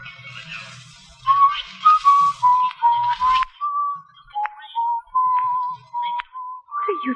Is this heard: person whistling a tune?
yes